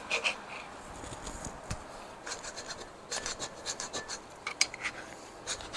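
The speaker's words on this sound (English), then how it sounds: "The fun part of scraping gaskets and gasket material." Old gasket material is scraped off Shovelhead engine parts by hand, irregular close rasping strokes of a scraper on metal coming in short bursts, fairly quiet.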